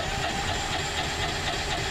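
Steady loud running drone of the electric-start gas engine on a 2024 Texas Pride 30K dump trailer, close by with a constant mechanical rumble throughout.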